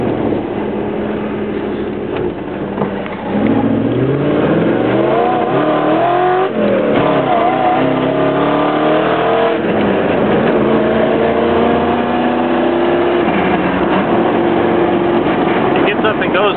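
Toyota 4Runner with a swapped-in Lexus 1UZ-FE V8, dual exhaust and solid front axle, pulling hard under acceleration, its engine note rising and falling through revs, loud and close for the whole stretch.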